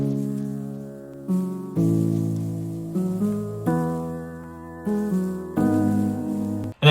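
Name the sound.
piano processed with RC20 to sound old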